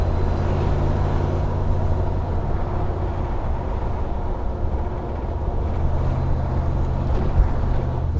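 A 1975 Ford Bronco cruising with the top down, its engine a steady low rumble blended with heavy wind buffeting throughout, loud and continuous with no voices.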